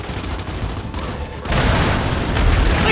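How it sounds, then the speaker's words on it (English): A grenade blast in the Gears 5 campaign: a dense, rumbling burst of explosive noise that swells louder about halfway through and stays heavy, with no voices over it. "Good grenade, Del."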